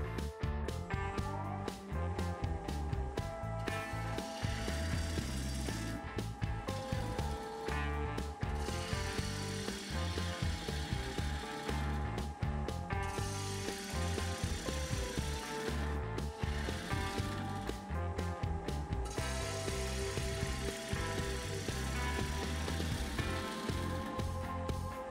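Wood lathe spinning a square bowl blank at 1000 RPM while a 3/8 inch bowl gouge cuts, giving a continuous faint whirring with rapid rhythmic tapping and scraping from the corners hitting the tool.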